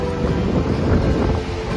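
Strong wind buffeting the microphone at Mandarmani sea beach, with a heavy, swollen sea surging behind it, a loud continuous roar and rumble.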